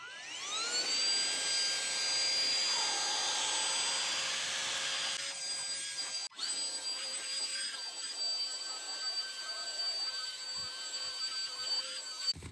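A Bissell handheld vacuum cleaner runs continuously with a high whining motor tone and a steady airy roar, close by, shifting pitch slightly as it works over debris.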